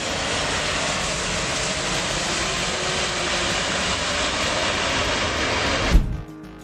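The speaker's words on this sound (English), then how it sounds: "And the third is reverse thrust or thrust reversal." A jet airliner's reverse thrust roars during landing, a loud, steady broadband rush that holds for about six seconds before cutting off abruptly.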